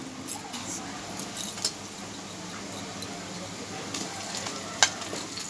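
Meat goes into a pan of onions frying in oil, giving a steady moderate sizzle with occasional clinks of a stirring utensil against the pan, close by and continuous.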